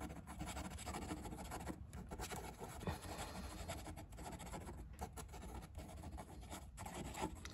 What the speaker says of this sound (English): Fast writing,